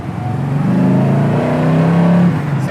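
A 1973 Chevrolet Camaro Z28 V8 with a well-tuned carburetor pulls hard under acceleration, a loud, steady engine drone building from inside the car and easing off near the end.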